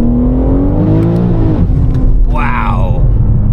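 A 1400bhp BMW M3 Touring pulls hard in second gear, its engine note climbing loud and close in a sustained rising roar, with a brief gear change and renewed surge near the end.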